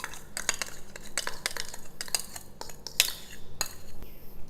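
A utensil stirs gluten-free flour, baking soda, baking powder and salt together in a bowl, making a close, continuous run of scraping clinks and taps with an uneven rhythm and no talking.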